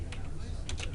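Several quick keystrokes on a computer keyboard while entering figures into an Excel spreadsheet, soft clicks clustered near the end of a short moment.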